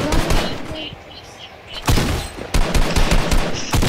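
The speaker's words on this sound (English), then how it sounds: "someone's firing at me" Gunfire in a battle royale video game, with rapid bursts of automatic shots at the start and again in the second half, loud and close, separated by a brief lull.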